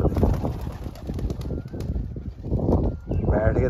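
Pigeons coo outdoors on a rainy, windy rooftop where they fly from a tall pole perch, their soft calls blending into steady wind rumble and faint background voices.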